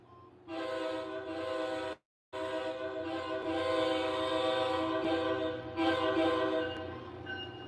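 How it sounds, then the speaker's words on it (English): A loud, sustained model train horn blares, cuts off briefly, then sounds again in a long continuous blast with shifting tone. "That's the Excella horn. Yeah, that is the accelerator horn."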